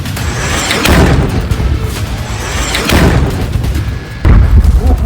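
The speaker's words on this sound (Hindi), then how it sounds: "पहले ड्रोन आकर गिरा, धमाका हुआ" Several loud, deep booms from Russian drone and missile strikes on Kyiv strike in sequence, each followed by rumbling noise, with a heavier blast near the end.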